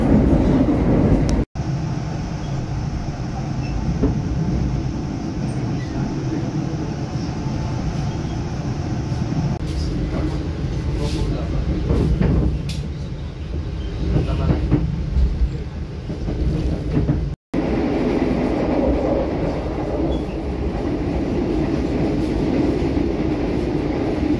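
Train running as heard from inside the dining car, a continuous low rumble and rattle of the carriage with faint clicks of the wheels, and a couple of brief abrupt drops partway through.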